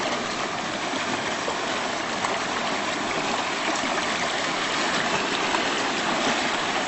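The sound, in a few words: stream water flowing over saturated ground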